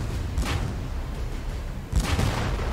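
Tank cannon fire in a World War II tank battle video game, two heavy booming shots about one and a half seconds apart over a rumbling background, with no talking.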